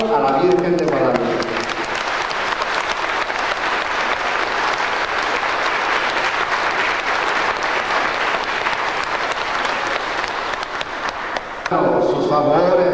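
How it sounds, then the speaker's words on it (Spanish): Loud, sustained applause from a church congregation honoring the Virgin of Guadalupe during a Santo Niño celebration, steady dense clapping for about ten seconds with a voice audible before and after. "vamos a darle un fuerte aplauso a la Virgen de Guadalupe"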